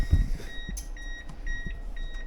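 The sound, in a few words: beep from K24-swapped Miata after battery hookup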